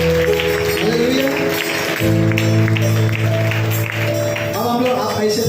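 Church congregation clapping along in a steady, loud wash of applause throughout a worship celebration, with music and voices blended underneath.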